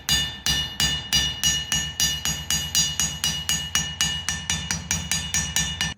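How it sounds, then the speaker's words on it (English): A blacksmith hammers a rivet to join a pair of forged tongs, sharp metallic strikes repeating about four times a second in a steady, close, ringing rhythm. "I can place the rivet, the one side over the other, and set the other side of the rivet"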